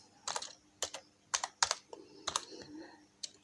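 Keys on a computer keyboard being typed in short bursts of crisp clicks, close and fairly quiet, with irregular pauses between strokes.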